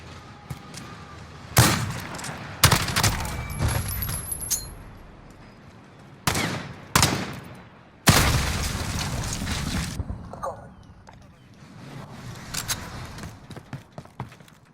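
Submachine gun fire in Call of Duty Modern Warfare, heard as several loud bursts of rapid shots separated by pauses, with a trailing stretch of quieter scattered shots and ambient battle noise.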